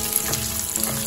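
Oats chicken chili pakoras fry in oil while being stirred, giving a close, steady crackling sizzle with no voices.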